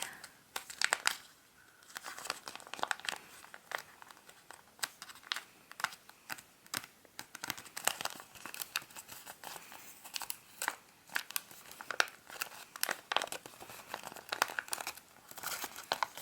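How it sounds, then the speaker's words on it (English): Origami paper for a turkey model is folded and creased by hand: close, busy crinkling and crisp rustles with sharp creasing snaps, continuing throughout without talk. "So we want to fold this, so it means the bottom edge here, fold up, do the same for the other side."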